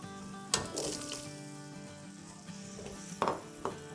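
Boiled kabuli chickpeas fry with spices in a pan for chana mutton pulao, a close sizzle broken by a few bursts of stirring scrapes, with a steady low hum underneath.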